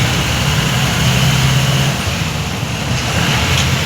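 A Mahindra Commander 4x4 engine rumbles loudly and steadily during off-road driving in Maharashtra, with a constant low drone and wind-like roar and no talking.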